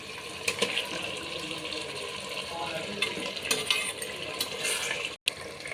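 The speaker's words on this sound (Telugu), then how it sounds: "నేను ఇలా చికెన్ యాడ్ చేసుకుంటున్నానండి" Chicken pieces go into a clay pot of biryani masala and start to cook, giving a continuous sizzle and wet stirring scrape, with a few sharp clatters and a brief dropout near the end.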